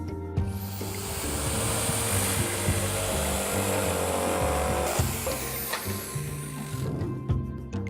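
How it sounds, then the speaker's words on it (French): A jigsaw buzzes steadily through laminate flooring for several seconds, a high rasping whine over a rattling motor hum, then cuts out. "Une simple scie sauteuse permet de découper des plaques de stratifié."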